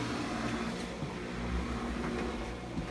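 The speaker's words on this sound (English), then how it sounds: "This is the sound of the pump running." Steady low mechanical hum of a Costway washing machine drain pump running continuously while the machine drains, with faint rattling over a constant drone.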